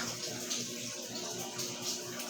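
Water runs steadily like a tap filling a basin, a continuous, even rushing hiss that stays constant at moderate volume with no talking.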